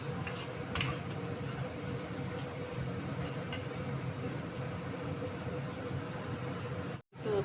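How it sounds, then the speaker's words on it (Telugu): Curry of stuffed brinjal masala gravy being stirred in a pan, a steady low scraping and swishing with faint clinks running continuously, ending in a brief cut of silence. "వేసి అటు ఇటు కదపాలి ఫ్రెండ్స్"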